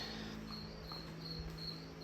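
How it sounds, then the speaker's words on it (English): Crickets in a garage chirp in steady repeating pulses, faint and continuous against a low background hum. "crickets in the garage"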